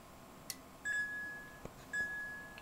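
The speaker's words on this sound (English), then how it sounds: "you'll see the alarm will kick in." An LP500 station monitor's alarm sounds twice as a pair of steady, clear electronic beeps, each about half a second long, against a quiet ham radio shack background.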